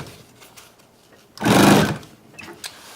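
Sewing machine stitching a single short burst of about half a second, a close, buzzing mechanical whir between quiet handling noises.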